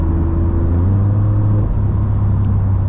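BMW 2002 Turbo engine pulling hard, a loud steady low rumble and drone from close by, with a slight shift in pitch as it accelerates.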